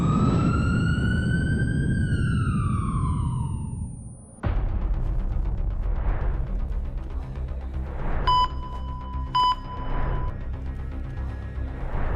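An ambulance siren wails in loud, sweeping rising and falling tones for about four seconds, then cuts abruptly to a dense, noisy scene with a few short electronic beeps.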